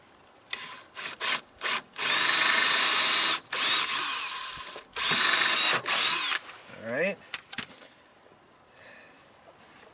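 A power drill bores through a wooden stake side on a logging trailer, whining in several loud sustained bursts separated by brief pauses, with a ratcheting clatter and faint voice near the end.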